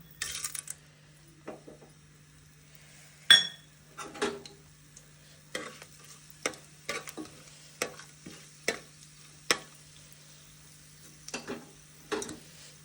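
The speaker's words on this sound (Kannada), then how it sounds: "ಒಂದು ಸ್ವಲ್ಪ ಫ್ರೈ ಮಾಡ್ಕೊಳ್ಳೋಣ" Whole spices, bay leaf and star anise fry in oil with a faint sizzle under frequent light taps, scrapes and clinks of a spoon against the pan, close and intermittent over a low electrical hum, without talking.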